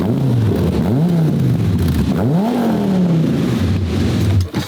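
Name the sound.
car engine revving cold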